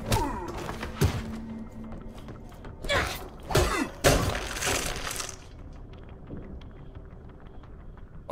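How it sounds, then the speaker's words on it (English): In the zombie game Dead Island 2, a floor is smashed with several loud, close crashes and heavy thuds mixed with breaking debris over a few seconds, then quieter rattling and settling. "Oh, I just smashed the floor."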